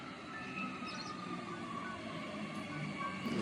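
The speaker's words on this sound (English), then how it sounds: "here's my train." Train rumbling past nearby as a steady, continuous roar of wheels and carriages, holding at an even loudness throughout with a faint rise at the end; no talking.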